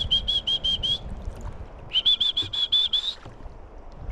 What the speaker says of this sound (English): So they're chirping at me.